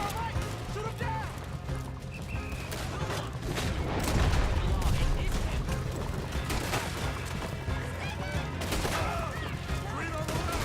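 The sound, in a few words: gunfire in Red Dead Redemption 2 video game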